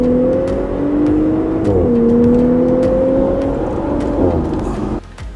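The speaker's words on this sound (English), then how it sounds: "the engine sound. Actually, I'm going to show you what that sounds like." The 2018 Audi SQ5 engine in dynamic mode revs loudly and close by, its tone rising, dipping and climbing again in a sustained drone before cutting off near the end.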